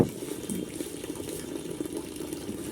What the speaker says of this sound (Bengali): এই একটি পাইপের সাহায্যে আমি এই অ্যাকুয়ারিয়ামের জলটা আমি তুলে নিচ্ছি